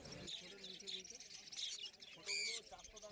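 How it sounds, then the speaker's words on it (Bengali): Budgerigars and cockatiels chirp in quick, high, twittering calls at a bird market, with one louder squawk near the end against a busy background. "এখানে রয়েছে প্রচুর পরিমাণে বদ্রি পাখি"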